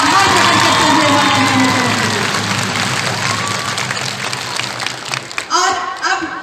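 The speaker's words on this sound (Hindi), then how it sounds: "एक बार जोरदार तालियां हम सब की तरफ से आभार प्रकट करते हुए" Loud crowd applause at a public event in West Singhbhum, mixed with cheering and voices over a busy crowd noise, thinning near the end into a few scattered sounds.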